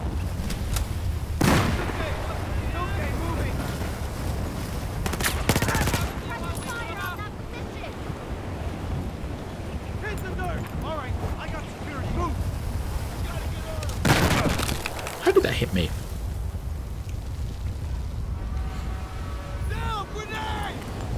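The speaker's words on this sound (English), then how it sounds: "Who's throwing grenades?" Explosive booms and bursts of gunfire from a Battlefield 4 campaign battle, with two heavy blasts standing out amid a constant rumble of combat, and voices talking over the action.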